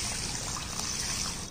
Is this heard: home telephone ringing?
no